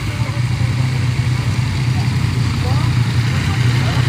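A rally motorcycle engine idles at a special stage start at the 2024 Rallye de Charente, with a steady low throbbing rumble, close and fairly loud, continuous throughout.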